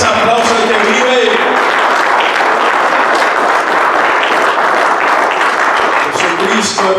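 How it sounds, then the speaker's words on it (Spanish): A church congregation breaks into loud, sustained applause, continuous dense clapping for several seconds, with a voice faintly heard at the start and end. "Dale fuerte ese aplauso al que vive."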